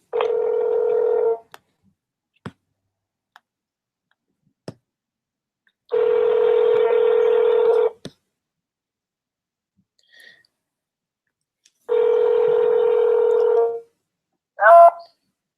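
Telephone dialing tones place a call: a few separate sustained tone bursts with brief clicks between them, clear and close against near silence, ending in a short rising chirp.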